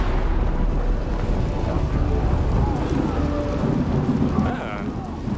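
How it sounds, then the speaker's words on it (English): Steady heavy rain pours across a battlefield in the strategy game Yes, Your Grace, with a deep rolling rumble of thunder underneath, loud and continuous throughout. "Rain."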